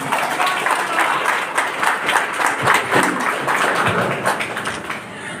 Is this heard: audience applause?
yes